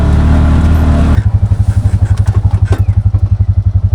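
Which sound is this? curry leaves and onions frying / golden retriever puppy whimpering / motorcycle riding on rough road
motorcycle riding on rough road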